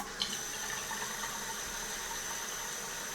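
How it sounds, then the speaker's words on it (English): Tap water runs steadily into a bathroom sink and drains away after a clog has been cleared, a continuous even rush with no talk over it. "Run some water now and see how well it drains."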